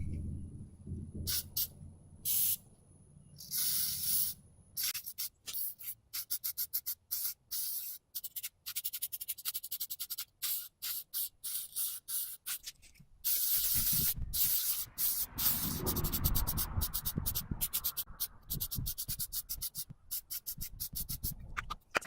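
Bursts of glitter aerosol spray hissing close by, in short repeated pulses at first, then a longer sustained spray in the second half.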